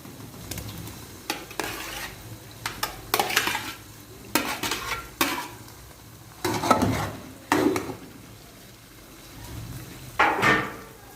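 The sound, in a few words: liver frying in a pan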